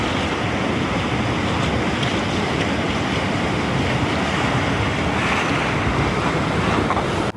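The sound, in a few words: packraft paddling on the Huon River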